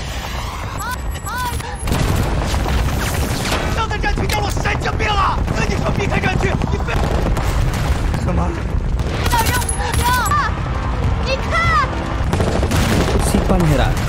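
Gunfire from a war scene in a film, with dense rapid bursts of shots that form a loud continuous barrage, while a voice narrates over the shooting.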